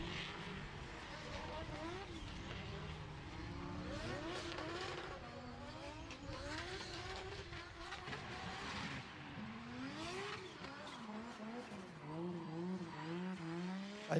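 Race car at full throttle on a track, engine note climbing and sweeping in repeated loud passes, with commentators talking excitedly over it throughout.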